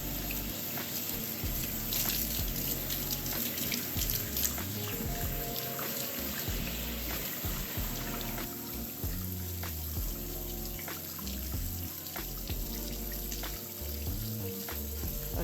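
Steady running tap water splashes and gurgles continuously over microlocs being rinsed and squeezed, with small wet squelches throughout.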